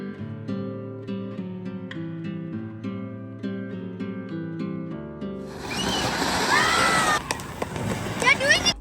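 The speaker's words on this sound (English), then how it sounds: "Parth and Kaya went down for the traditional celebration with firecrackers." Harmonic music plays for several seconds, then gives way to loud, dense crackling bursts and whistling pops of Diwali firecrackers going off nearby in Goa, with voices in the mix.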